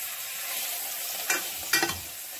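Beef sizzles steadily in a pan with black pepper, broken by two close scraping stirs as the meat is turned, for a brisket and barley cobbler; no talking.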